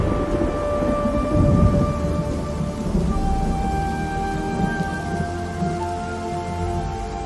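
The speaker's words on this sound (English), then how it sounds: "realistic rain sounds" AI-generated cinematic rain falls on a foggy samurai street, a dense steady hiss with low rumbling beneath sustained musical tones.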